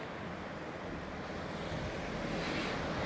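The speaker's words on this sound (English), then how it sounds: "How is it the sea never seems to come in further than that? Like it's always rolling, but it never comes in." Sea waves roll continuously onto a beach at Salou, a broad steady wash of surf with some wind noise, swelling slightly louder near the end and heard without voices.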